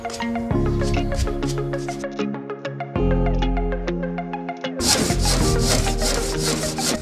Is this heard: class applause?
no